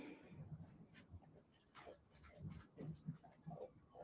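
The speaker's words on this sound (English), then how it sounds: "That sounds like puppies." Faint, muffled puppies whimpering and softly yelping in an apartment upstairs, coming in short irregular bursts over a low indoor hum.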